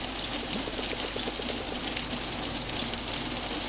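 Steady rain falling in the video game Until Then, a constant close hiss of drops on surfaces filling the whole stretch without pause, with no voices over it.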